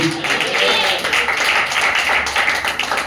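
A church congregation claps together in a steady run of hand claps, and voices talk and call out over and around the clapping.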